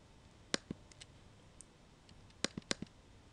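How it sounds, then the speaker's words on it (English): Sparse, crisp mouse clicks while working in Microsoft SQL Server 2012 Data Quality Services, a few single and double clicks spaced over several seconds against a quiet background. "And then I'm going to click next."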